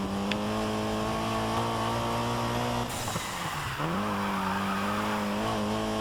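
A car drifts in the racing video game Need for Speed Heat, with a steady loud engine drone, a harsh burst of tire squeal in the middle and the engine pitching back up as it comes out of the slide.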